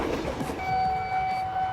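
A train rushes past at speed right beside a railway level crossing, a steady close roar of rushing wind and rail noise with a sustained high tonal whine, loud and continuous throughout.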